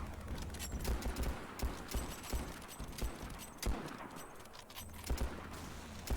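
Gunfire from a sniper rifle in a video game comes as scattered sharp cracks with bursts of rapid clatter over busy game noise, fairly quiet throughout, with no talking.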